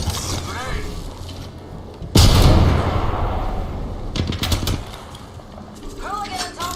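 A grenade explosion in the Apex Legends shooter game, a sudden loud boom that dies away over several seconds, followed by scattered gunfire and mechanical clatter amid a voice talking.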